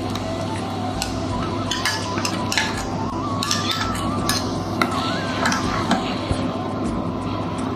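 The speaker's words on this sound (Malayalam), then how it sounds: "കാരണം ഒന്ന് ഇളക്കി കൊടുത്തോണ്ടിരിക്കണം, ഇല്ലെങ്കിൽ അടിയിൽ പിടിക്കാൻ ചാൻസ് ഉണ്ട്" Sago being stirred in hot milk in a pot for Onam payasam, a busy run of spoon scrapes and metallic clinks against the pot over a steady low hum, with a voice talking throughout.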